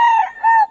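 Chickens and a rooster at a Bocaue market stall in Pangasinan's trade, with two loud, close rooster crows or calls in quick succession, each strong and held, no talk over them.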